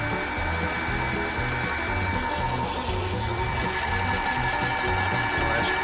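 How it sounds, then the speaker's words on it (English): A pressure washer pump primes and pumps water back into a bucket, a steady close mechanical whirring drone with a rattling motor rhythm that holds even and loud throughout. "So when we prime it, it's gonna pump it straight up and back into the bucket."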